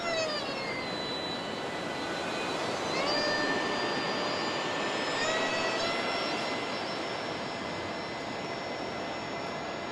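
UMX A10 radio-controlled model jet flying close overhead, a steady high whine of the electric ducted fan that swells slightly as it passes low and carries on without a break.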